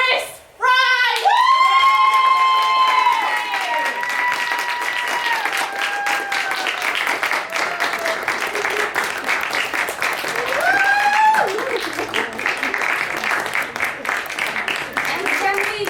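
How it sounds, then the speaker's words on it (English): Sustained audience applause for a building administrator, dense clapping with some cheering that starts after a brief pause and holds steady to the end, with a voice or tones ringing out over the crowd. "Can I have a big round of applause for our building administrator, Chris Fry?"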